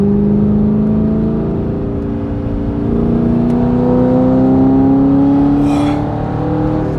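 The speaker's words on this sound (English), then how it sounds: "to actually launch this car, you need to rev the crap out of the thing and dump the clutch" A straight-piped Audi R8 V8 revs hard before a launch, its loud exhaust note climbing steadily in pitch and holding a raw, droning roar close up with no talk over it.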